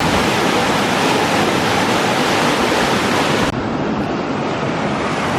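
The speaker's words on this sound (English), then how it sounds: "Water draining out." Water rushes out of a canal lock on a narrowboat route, a loud, constant roaring gush close by, with no talking over it.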